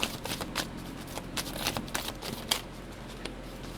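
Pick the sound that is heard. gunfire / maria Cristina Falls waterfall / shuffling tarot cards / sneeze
shuffling tarot cards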